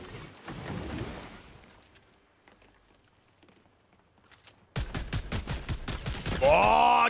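Rapid gunfire in Fortnite build mode: a burst of automatic shots early, quiet stretch with faint taps, then a loud fast volley of repeated shots ending in a rising tonal game effect.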